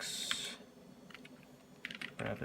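Bursts of typing on an Apple iMac G3 keyboard, quick clustered key clicks with short pauses between them, fairly close and clear.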